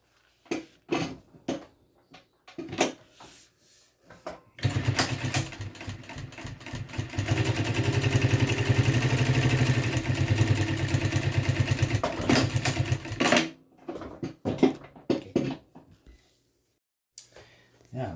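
A Bridgesew 640-D3 sewing machine stitches in a steady rapid run lasting several seconds, framed by scattered clicks and handling knocks before and after, close and fairly quiet.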